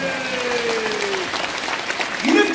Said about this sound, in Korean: 이야 이거 박수 쳐 박수 쳐